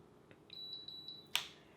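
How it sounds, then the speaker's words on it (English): Two short high electronic beeps sound close together from a Bonavita 1901GW coffee maker signalling mode 2, followed by a brief click, in an otherwise quiet room. "It's going to give you 2 beeps to let you know that you're in mode 2."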